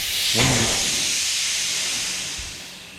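Compressed air hissing out past a worn seal on a Tekna ProLite spray gun, a steady close rush of air that slowly fades over a few seconds.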